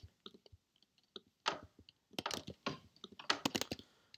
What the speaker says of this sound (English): the reason you hear keyboard sound is because I'm using my computer's built-in mic